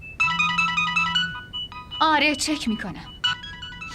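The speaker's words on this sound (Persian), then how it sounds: "موبایلت داره زنگ میخوره" A mobile phone ringtone plays in repeated melodic bursts, close and clear, with a person speaking briefly between the rings.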